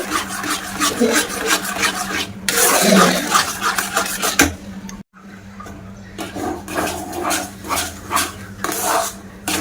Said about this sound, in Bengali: সেইভাবে আস্তে আস্তে একটা ডো বানিয়ে নেব।